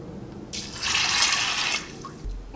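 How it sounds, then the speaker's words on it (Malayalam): Water poured over soaked beans in a pressure cooker: a steady splashing pour of about a second and a half, fairly close, then it stops with a light clunk. "ഇതിലേക്ക് 3/4 ഗ്ലാസ് വെള്ളം ചേർക്കാം."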